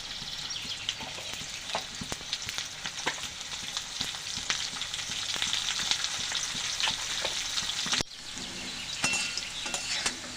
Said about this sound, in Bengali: এবার কেটে নেওয়া আলুগুলো আমি ছেড়ে দেব এর মধ্যে